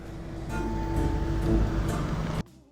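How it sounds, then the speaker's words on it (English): A large vehicle rumbles past nearby, a low engine drone swelling louder in the middle before cutting off abruptly near the end. "cue the truck."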